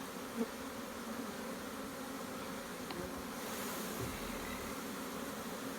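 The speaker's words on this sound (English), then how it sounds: "Nice bees." Honeybees hum steadily around an open nuc hive, a dense, continuous, even buzz close by with no voices.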